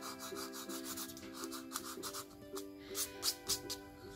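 A finger rubs dried masking fluid off watercolour paper, giving a soft, continuous dry rubbing and scuffing with a few louder scrapes toward the end, close and quiet over a faint background tone.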